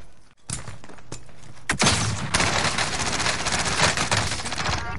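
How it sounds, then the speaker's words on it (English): Rapid bursts of gunfire from a video game shooter, close and loud, with a brief lull before a sustained barrage of automatic fire that continues to the end. "Taking shots here"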